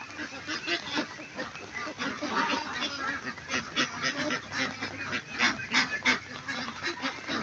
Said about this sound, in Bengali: এগুলা কিন্তু সব বাচ্চা হাঁস